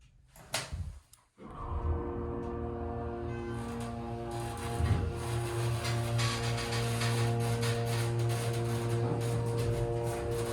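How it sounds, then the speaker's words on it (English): A 1999 Schindler HT 321A hydraulic elevator at a Boscov's store, heard from inside the closed car, opens with a couple of clunks before its hydraulic pump motor starts and runs as a loud, steady whining drone. "I want to start the motor with the doors closed."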